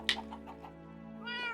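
A cat in a Minecraft-style game meows twice, first a short sharp cry, then a longer tonal meow, over a steady background music drone.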